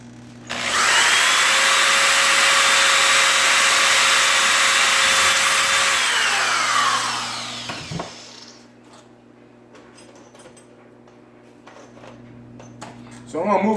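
Power drill boring through a kitchen cabinet door for knob holes, a loud close whine that holds steady for about six seconds then winds down, followed by a clunk, quiet room hum and a brief voice.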